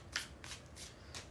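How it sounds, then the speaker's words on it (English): Tarot cards being shuffled, several quick riffling bursts in a row, close but quiet, with no voices. "we're going to start the Aries Collective with 3 more shuffles"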